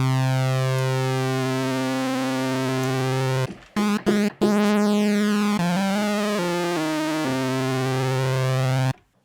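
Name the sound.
Arturia Mini-V4 synth oscillators pitch-modulated by noise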